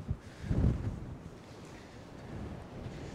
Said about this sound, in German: Boah, hier weht's aber, Leute.